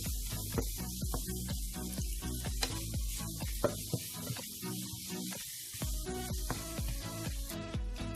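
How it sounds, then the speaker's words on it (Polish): Pork chop with onion and mushrooms fries in a pan with a steady, close hiss and crackle. Faint rhythmic music plays underneath. "I smażymy to z 5 minut."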